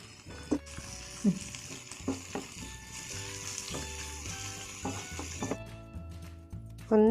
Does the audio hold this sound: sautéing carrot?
yes